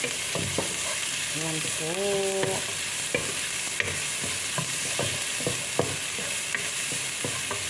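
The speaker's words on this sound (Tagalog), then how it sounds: "Yan, halo-haloin po natin." Food for a home-cooked lunch stirred as it fries in a pan: a steady sizzle broken by repeated scraping and clacking strokes of the utensil, close by, with someone speaking briefly early on.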